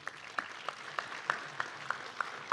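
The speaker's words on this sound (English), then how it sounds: "Let's give her a round of applause" Sparse, scattered clapping at a police academy graduation ceremony, about ten separate claps spaced unevenly over a quiet hall, fairly faint.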